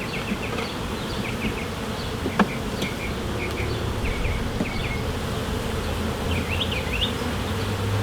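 Honey bees buzz continuously around an open hive during an inspection, a dense steady drone with a few individual bees zipping closer, and a light clunk partway through.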